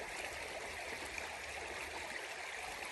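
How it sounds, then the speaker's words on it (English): Fast-moving water in a creek flooded after heavy rain rushes in a steady, continuous wash with no pauses, moderately loud and close by. "when it gets down here, that water is moving"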